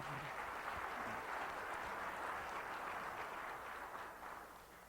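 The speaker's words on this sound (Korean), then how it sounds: "우리 인천의 자랑인 그 봉황대기 우승을 한번 축하하는 의미에서 큰 박수 한번 보내주시기 바랍니다" An audience at a morning lecture forum in Incheon applauds together in a steady, faint, distant wash of clapping that tapers off at the end.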